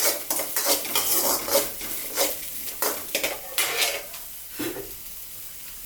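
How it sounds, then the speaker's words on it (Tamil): Grated coconut sautés in a pan while a spoon stirs and scrapes it in repeated rhythmic strokes over a light sizzle, close and clear. "தேங்காய் சேர்த்திக்கிறோம், வதக்குறோம்."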